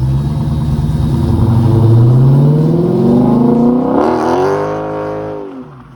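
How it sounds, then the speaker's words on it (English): A manual car revs hard during a burnout, engine pitch climbing steadily then surging before dropping off, loud and close with no talk. "how to do a burnout in a manual car"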